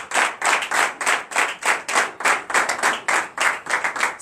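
Rhythmic group clapping at a church deliverance and prophecy night service, loud and close, beating in an even pulse roughly twice per second with no speech over it.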